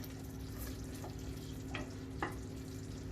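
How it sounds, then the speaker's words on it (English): Slow stirring of a millionaire shortbread caramel mixture in a pan, a soft steady sizzle and scrape with a few brief louder scrapes, close and continuous with no talking. "just make sure you slowly stirring it all around, making sure none of it's sticking"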